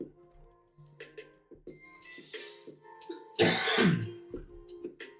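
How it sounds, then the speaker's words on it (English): A person clears their throat and coughs several times, short rough bursts spaced apart, building to one harsh louder cough near the end amid faint handling noises. "Sorry for the cough."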